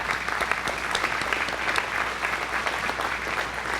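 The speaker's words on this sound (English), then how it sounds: "let's give the applause to our newly elected directors" An audience at a cooperative's annual membership meeting applauds newly elected directors, a steady wash of clapping hands, fairly close and sustained with no voices on top.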